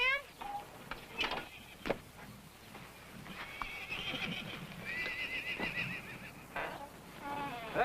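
A horse neighs and whinnies in short bursts with some hoof clip-clop, moderately near, over quiet background noise; a person speaks briefly.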